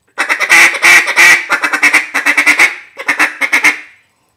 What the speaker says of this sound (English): Feeding clucks.